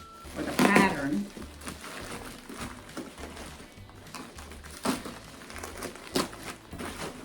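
A mail package is cut open and its plastic wrapping crinkles, with bursts of rustling and crackling between a person's talk.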